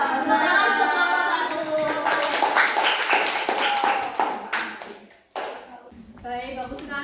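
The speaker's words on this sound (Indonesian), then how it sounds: "Tepuk tangan untuk kelompok" A classroom of students applauds a presenting group during a peer-teaching lesson, giving brisk, fairly close clapping that fades out near the end, with children's chatter mixed in and a voice speaking afterward.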